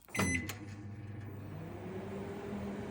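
A microwave oven heating dry fish for 10 seconds: a beep at the start, then a steady low electric hum that carries on evenly, close and fairly quiet.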